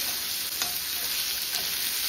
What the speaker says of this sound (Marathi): कांदा असा एक 30 सेकंड फास्ट करून व्यवस्थित मिक्स करून घ्यायचा आहे फोडणीमध्ये